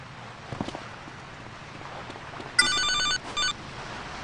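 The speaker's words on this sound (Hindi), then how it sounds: "तो अब यहाँ पे फ़ोन कॉल आएगी तो आप सुने" In GTA Liberty City Stories, soft footstep-like taps come first, then a loud electronic phone ring sounds close up in two bursts, a long trill and a shorter one, with no speech.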